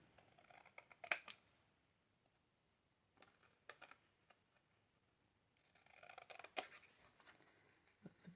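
Scissors snipping a craft tag made from recycled materials, a few quiet crisp cuts in short clusters separated by silence, close and faint.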